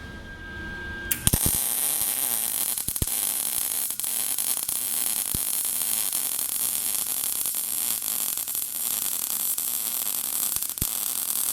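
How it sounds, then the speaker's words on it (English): A Lincoln 140 welder lays a bead with a steady, close, crackling arc hiss that starts abruptly after a brief pause and runs unbroken, with a few sharp pops along the way. "So there's the bead with the 140 Lincoln."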